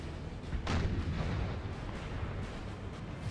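Artillery fire in a Napoleonic battle in the game Napoleon: Total War, with low rolling booms and dull cannon thuds one after another, distant and muffled over a continuous battlefield rumble.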